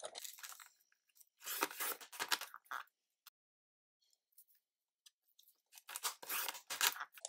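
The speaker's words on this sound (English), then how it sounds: "So I am gonna cut 4 strips, 1/4 inch." Scissors cut strips of paper in several short bursts of crisp snipping and slicing, separated by near-silent pauses, close and fairly quiet with no talking.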